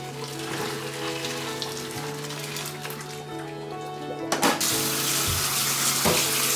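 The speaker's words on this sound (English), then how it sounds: "We're gonna just really fastly cook them by pouring boiling water over the top." Water gushes steadily as boiling water is poured over spinach in a bowl, with a hissing splash that grows louder near the end.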